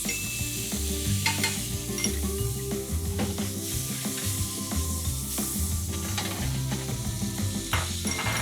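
Onions sauté in margarine in a pan, a busy continuous sizzle layered with rhythmic scraping and clinking of a spatula stirring against the pan, close and fairly loud, without talking.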